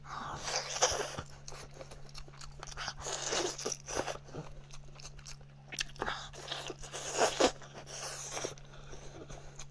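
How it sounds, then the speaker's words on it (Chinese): Close crunching and biting as spicy mala-seasoned goat leg bones with marrow are eaten, with repeated bursts of chewing and gnawing over a steady low hum, no talk. "能吃棒骨肉，还能吸骨髓的啊！"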